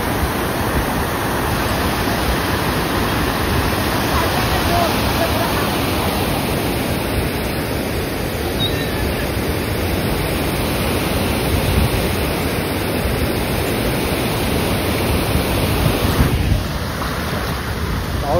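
Floodwater in the Konkan, swollen after unseasonal rain, rushes in a loud, steady roar that fills the scene close by without a break.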